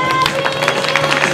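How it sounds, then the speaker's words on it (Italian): An audience at a Saranno Famosi 2014 show breaks into applause for the people of Livello, a dense, loud patter of many hands clapping steadily, with a voice faintly underneath. "sempre un applauso ai livellesi"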